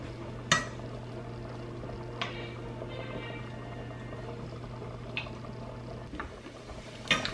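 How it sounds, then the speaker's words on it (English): A pound of bacon frying in a pan to make a hot bacon dressing, giving a faint steady sizzle with a few sharp clinks of cookware over it. "For the hot bacon dressing, I'm just gonna start with frying up bacon."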